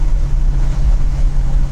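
A 1968 Ford Mustang V8 rumbles loud and close, a deep, throaty low-pitched roar holding steady through the short stretch without any talking.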